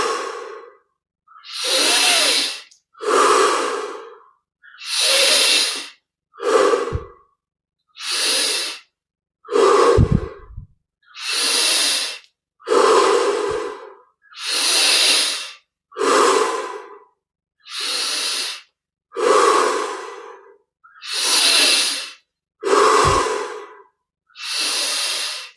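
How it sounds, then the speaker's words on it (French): Deep rhythmic breathing during a meditation exercise, with about fifteen long, loud breaths in steady succession, each a strong airy rush separated by brief silences. "Petit à petit, on augmente l'amplitude de chaque respire"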